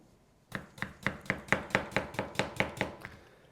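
A knife chops food finely on a board with a steady run of about twelve crisp, evenly spaced taps, close and clear, no voices.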